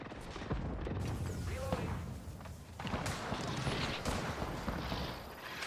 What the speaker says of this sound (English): I'm getting shot from everywhere